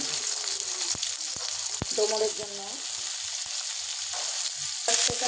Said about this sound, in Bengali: আমি প্রথমে পরিমাণ মতো তেল দিয়ে দিলাম কড়াইয়ে আমি এক কাপ পেঁয়াজ দিয়ে দিলাম